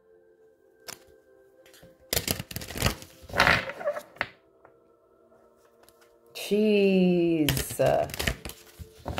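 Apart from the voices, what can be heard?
shuffling a deck of cards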